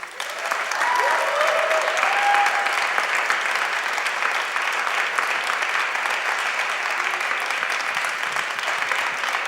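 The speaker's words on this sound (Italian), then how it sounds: "Riceviamola con un applauso." Steady applause from a church congregation welcomes a missionary and pastor to the front, a sustained, fairly close wash of clapping that carries on evenly for several seconds with a few faint tonal sounds early on.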